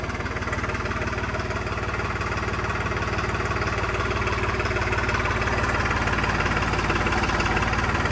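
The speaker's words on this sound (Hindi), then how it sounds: "700 RPM पर ट्रैक्टर का आइडल है" A New Holland 3630 tractor's diesel engine idles steadily and loudly nearby at 700 RPM, a constant low, rhythmic chugging with metallic rattle and no voices.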